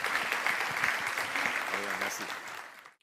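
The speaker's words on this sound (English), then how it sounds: "Let's give him a round of applause." Audience applause at the close of a Romanian tech-business programme segment, a dense, steady wash of clapping that holds for about three seconds before cutting off, with some voices faintly underneath.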